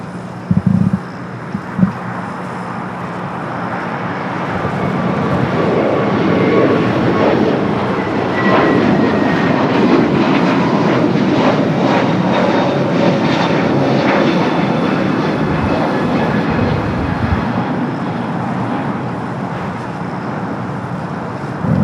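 An airliner at Los Angeles International Airport roars steadily and loudly throughout, its jet noise swelling and holding with no talk over it.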